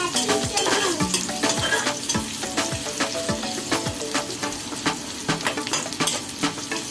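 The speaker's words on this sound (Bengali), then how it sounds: "তার উপরে পেঁয়াজ দিয়ে এখন পেঁয়াজটা ভেজে নিব।" Onions frying in half a cup of oil in a pan for a bitter gourd curry: a steady, close sizzle with repeated scraping and clinking from stirring, and no talking.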